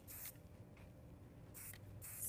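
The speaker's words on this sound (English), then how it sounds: "again with my flexible hold hairspray" Flexible hold hairspray sprayed onto hair in three short hissing bursts, quiet and close, separated by brief pauses.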